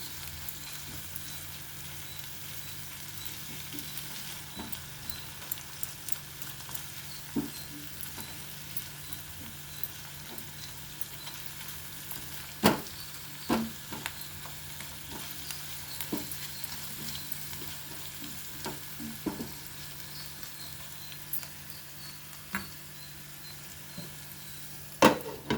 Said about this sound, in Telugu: ఒక స్పూన్ అల్లం వెల్లుల్లి పేస్ట్ వేద్దాం. పచ్చివాసన పోయే వరకు వేగించుకోవాలి.